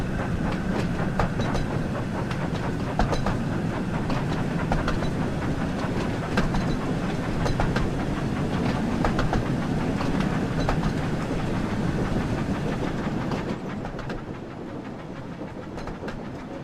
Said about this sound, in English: Gordon can make up for it by flying along the tracks like his brother, the Flying Scotsman.